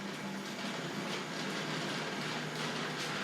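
A Tri-ang or Hornby Dublo model train runs steadily along its track with a continuous, even whirring rumble and faint rhythmic clicking, close and alone without any talk.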